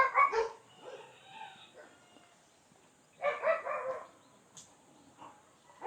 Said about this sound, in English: Of course, you have a loose dog.